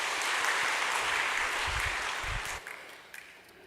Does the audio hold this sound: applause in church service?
yes